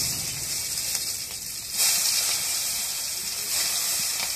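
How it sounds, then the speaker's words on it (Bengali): Eggplant slices fry in hot oil in a wok with a loud, steady, close sizzling hiss that swells slightly partway through. "এখন তেল গরম হয়ে গেছে, এখন বেগুনগুলো দিয়ে দিই।"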